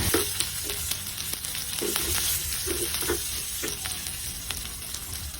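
Long green chilies sautéing in hot oil for tumbong soup, a steady close sizzle and hiss broken by repeated soft stirring scrapes, with no voices.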